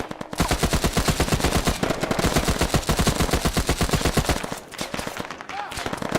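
Rapid automatic gunfire from a military video game, loud, dense bursts of repeated shots running almost continuously, with a brief lull near the end before firing resumes.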